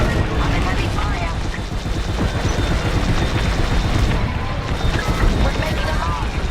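Dense, continuous space-combat din in Star Wars: Squadrons: heavy blaster gunfire and booming explosions layered together at loud, steady intensity with no pauses, while voice chatter runs underneath.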